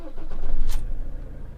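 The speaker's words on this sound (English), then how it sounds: "So I'm just going to start up the van's engine." A campervan's engine cranks and fires, a brief burst of starter noise around the middle of the short clip before settling into a low running rumble, close and fairly loud.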